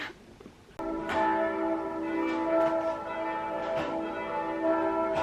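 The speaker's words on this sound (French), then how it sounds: "ça fait genre 10 minutes que j'attends que les cloches arrêtent de sonner" Church bells ring on and on, loud and close, with rich sustained overlapping tones and repeated strikes. No talk is heard.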